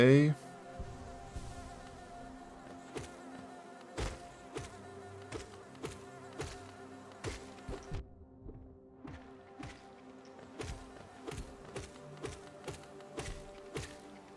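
Bees buzz continuously in Hollow Knight, a faint insect drone running under repeated sharp hits and taps from gameplay, with no talking.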